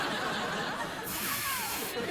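A voice makes a soft, breathy hiss that rises and falls, imitating a quiet Toyota Prius hybrid car gliding past, with a hint of suppressed laughter.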